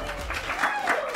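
Short burst of applause from an audience at a comedy show, many hands clapping in a room with some crowd murmur underneath.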